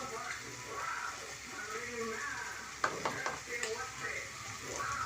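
Squid gravy masala is stirred in a pan with turmeric and fennel powder added, giving a steady low sizzle with a few sharp spoon scrapes partway through, while someone talks over it.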